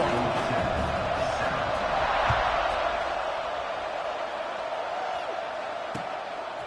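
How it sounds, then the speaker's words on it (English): Crowd noise from a college football video game after a score, a steady, distant stadium roar that fades gradually, with no distinct cheers standing out. "this crowd is buzzing after that last score"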